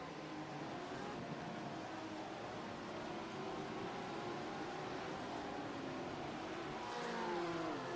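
Race cars in a sim racing game, among them a blue Porsche, drone steadily with layered engine whine and shifting pitch, a continuous loud pack sound with no gaps.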